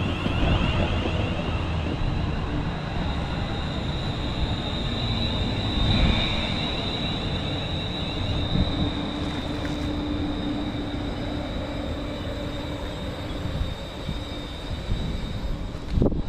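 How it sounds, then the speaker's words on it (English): A London Northwestern Railway train bound for Euston pulls into Berkswell station, a steady rumbling roll with high squealing brake and wheel tones and some wind buffeting, continuous and fairly close. "we've got London North Western Railway services pulling in now, going to Euston"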